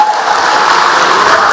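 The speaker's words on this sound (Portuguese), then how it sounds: "Então aplauda o Senhor Jesus." Congregation at a church service clapping together, a dense, steady wash of applause filling the room with no voices on top.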